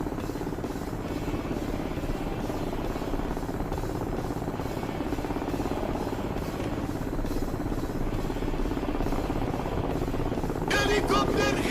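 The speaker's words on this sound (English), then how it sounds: "Where the hell is this helicopter?" Video game helicopter flying nearby, a continuous buzzing rotor drone holding steady at moderate level, with a brief burst of other game noise near the end.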